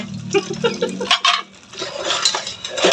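Dishes and cutlery are washed by hand, with clattering clinks, scrapes and splashes of water, close and fairly loud, in short irregular bursts.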